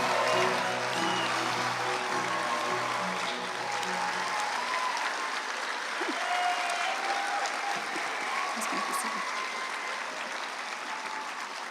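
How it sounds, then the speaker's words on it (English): A large audience applauds steadily at a medical school white coat ceremony welcoming the class of 2026, a dense sustained wash of clapping that fades slightly toward the end. "So let's please give a round of applause to our students and welcome the class of 2026."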